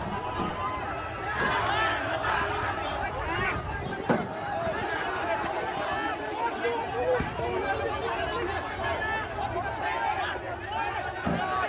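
A large crowd of protesters clashing with security forces near Nepal's parliament in Kathmandu makes a dense, continuous roar of shouting and chatter, with scattered sharp bangs and cries throughout.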